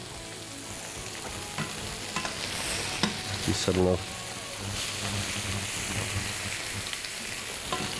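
Mushrooms fry in a hot pan and are stirred, giving a steady close sizzle broken by scraping and clattering stirring strokes, with a short spoken remark partway through.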